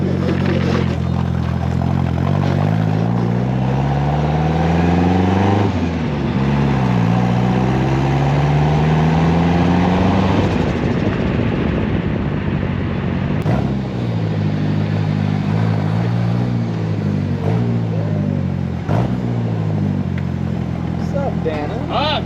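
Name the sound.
Ford Cosworth car engine revving on a dyno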